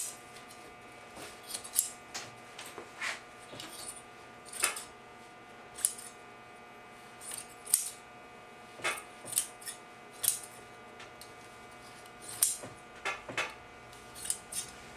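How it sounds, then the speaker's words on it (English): Scissors snip away excess upholstery fabric on a chair on a flat work surface, a series of separate crisp cuts arriving in uneven bursts over a quiet room tone. "I'm going to take my scissors"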